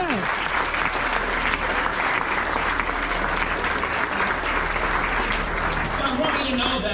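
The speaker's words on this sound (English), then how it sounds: "So give yourselves a big round of applause." Scholarship students applaud loudly, a dense, steady burst of clapping from a sizeable crowd that continues throughout.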